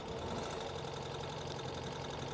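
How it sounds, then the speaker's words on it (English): A 2023 Ural Gear Up sidecar motorcycle engine, not fully warmed up, runs close by with a steady, dense, rumbling idle and slightly knocking mechanical texture, with no clear rev swells. "the bike is not fully warmed up, but it already has excellent throttle response"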